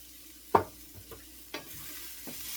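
Carrots cooking in butter are stirred around a pan for a glazed carrot side dish, giving a few soft scraping strokes over a faint, steady sizzle with no talking.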